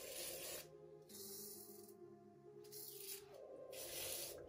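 Several short hissing bursts of a WD-40 aerosol spray can, close by, separated by brief pauses, with no talking, while installing coilovers on a Nissan 300ZX twin turbo.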